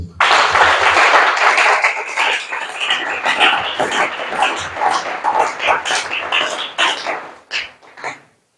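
A church congregation claps and cheers in acclaim, a dense burst of applause and shouting voices that thins into scattered claps and fades out near the end.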